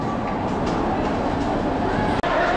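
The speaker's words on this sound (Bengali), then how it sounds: "চলছে শিয়ালদা থেকে শিলচরগামী 13175 কাঞ্চনজঙ্ঘা এক্সপ্রেস" Kanchanjungha Express passenger train from Sealdah to Silchar rolling steadily, a continuous close rumble and rattle of coaches on the rails with a brief sharp click near the end.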